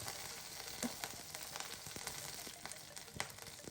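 Faint crackling and popping of mustard seeds spluttering in hot oil with dried red chillies, scattered quick pops over a soft sizzle.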